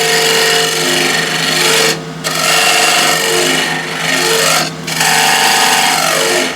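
A scraper takes finishing cuts across a turned ash box on a wood lathe, making a steady loud rasping scrape that runs in long passes with two brief pauses, close up and with no voices.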